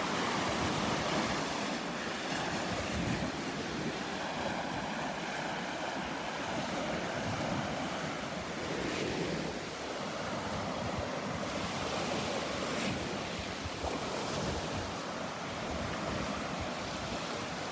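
Surf rolling onto a beach in North Naples, Florida, a continuous wash of breaking waves with gusting wind buffeting the microphone, steady and moderately loud throughout.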